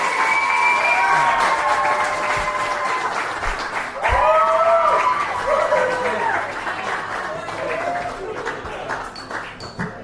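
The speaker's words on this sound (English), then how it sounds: "Another round of applause for Peter McKinney, everyone." An audience applauds at a fair-themed performance, a dense sustained wash of clapping with some cheering and voices mixed in, tapering off toward the end.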